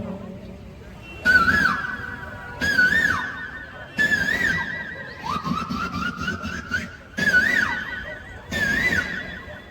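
A voice imitates a cuckoo in six whistled bursts, each rising and warbling, separated by short pauses.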